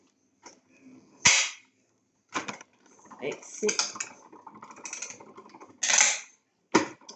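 Paper for a handmade mini album is cranked through a die-cutting machine with a cutting plate, giving uneven clacks, grinding rattles and sharp knocks spread over several seconds, with a few brief spoken words.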